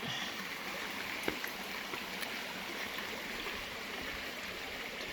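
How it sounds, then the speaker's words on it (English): A creek in the Ouachita Mountains flowing steadily, a broad continuous rush of water close by, even in loudness throughout with one faint knock partway through. "And you cross this creek."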